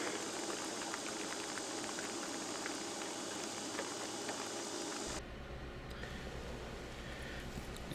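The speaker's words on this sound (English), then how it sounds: "We are actually getting some rain." Steady rainfall patters continuously, a soft hiss of drops that shifts in tone partway through, with no voices.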